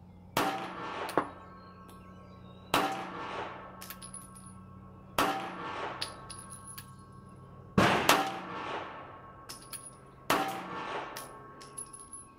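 Single CZ SP-01 Tactical pistol shots at a shooting range, five sharp loud reports spaced a few seconds apart, each with a metallic ring and a short decaying tail, close up and with no talking.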